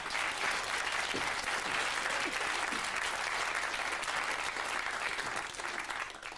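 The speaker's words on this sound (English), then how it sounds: "We'll give him a round of applause, then." Live audience at a Sooty puppet stage show breaks into loud, dense applause that stays steady and full the whole way through, thinning slightly only at the very end.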